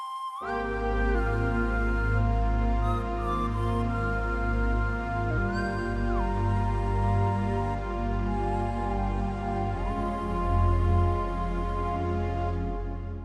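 A synthesized whistle-like voice on a Yamaha Genos 2 keyboard plays a slow, wandering melody over sustained low chords, bathed in long reverb that gives a distant, haunting feel.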